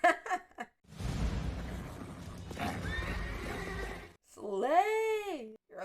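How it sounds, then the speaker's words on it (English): A horse in the animated film Spirit: Stallion of the Cimarron gives a loud, close whinny, with hoofbeats and a breathy snort, ending in a long rising and falling neigh. "It's a horse."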